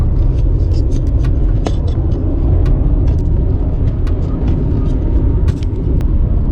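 Inside a car cruising along a highway a few lengths behind a moving truck, a steady, loud road rumble and engine drone continue without a break, with no voices.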